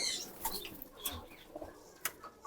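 Racing pigeons return to their loft after a toss, with a few soft, brief wing flutters and faint coos scattered over a quiet outdoor background.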